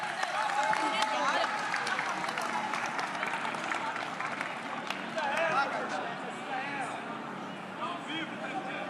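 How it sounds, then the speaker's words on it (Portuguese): An outdoor political rally crowd in Bahia applauds the culture minister, with clapping mixed with loud cheering and shouting voices that run throughout. "eu queria que vocês batessem uma salva de palmas à nossa ministra da Cultura"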